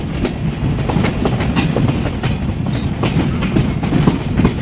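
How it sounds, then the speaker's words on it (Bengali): The Chitra Express from Khulna pulls into Chatmohar station, a loud, close, continuous rumble with rhythmic wheel clatter over the rails throughout. "খুলনা থেকে ছেড়ে আসা যমুনা সেতু চলাচলকারী একমাত্র ট্রেন চিত্রা এক্সপ্রেস চাটমহল প্রবেশ করছে"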